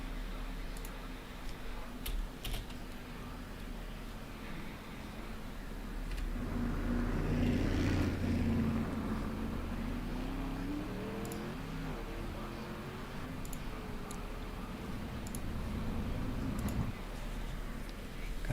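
Several race cars idle at a dirt-track summer nationals event, a steady low engine rumble that swells into a louder, rising rev midway before settling back to a sustained drone, with faint ticks on top.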